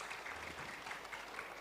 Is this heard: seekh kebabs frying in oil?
no